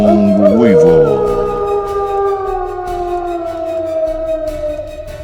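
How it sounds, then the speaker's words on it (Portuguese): A long, loud howl rises and then holds a sustained, wavering tone, sounding high and sinister from a dark hillside of black stones, heard alone without speech. "naquele momento da colina das Pedras Negras se eleva alto e sinistro um longo uivo"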